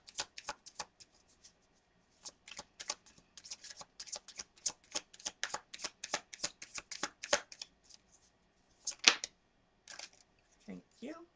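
Tarot cards being shuffled by hand, a fast run of crisp card flicks and snaps close by, pausing briefly, then a few louder slaps as cards drop out of the deck.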